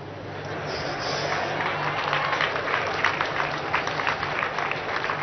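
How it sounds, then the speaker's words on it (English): Whole church congregation clapping during a Sunday live service, a dense, sustained roar of many hands at fairly close range, rising slightly in the middle with scattered crowd noise beneath. "I saw when the whole church was clapping"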